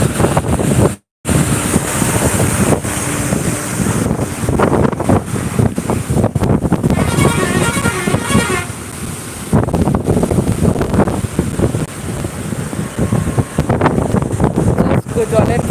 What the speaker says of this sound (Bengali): জলের গর্জন দেখো